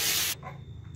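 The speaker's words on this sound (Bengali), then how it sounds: "লাল লাল করে একটু ভেজে নেব" Crushed ginger and garlic hit hot oil for desi chicken curry, giving a short, loud sizzling hiss that cuts off abruptly into quiet.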